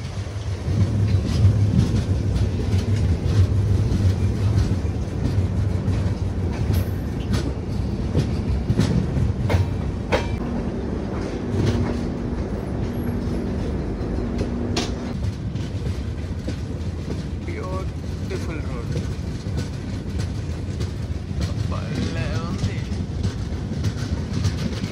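The Kondaveedu Express pulling out of Prasanthi Nilayam, heard from on board as a steady rumble and rhythmic clatter of wheels over the rails, with occasional squeals and faint voices in the background.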